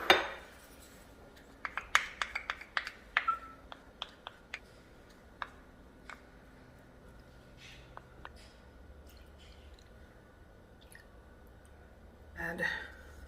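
Ingredients for a pork marinade, including light soy sauce, get stirred in a bowl: a burst of quick utensil clinks and taps against the bowl, then quieter sporadic ticks and a final scraping swirl.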